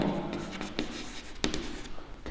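A pen scratches out a geometry construction in short, irregular strokes with small taps, close and fairly quiet, with a little talk in the background.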